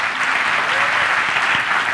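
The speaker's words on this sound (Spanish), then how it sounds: "Yo le quiero pedir que aplaudan a estas personas y a las demás." Audience applause at a TEDx talk on nature conservation, a steady dense wash of clapping from a large crowd filling the whole stretch without a break.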